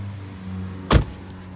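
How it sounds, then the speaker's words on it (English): Tesla Model 3 side mirrors folding in, a single short motorized whir lasting under a second over a steady low idle hum, close by with no talk. "The car will fold the mirrors in as soon as you activate summons"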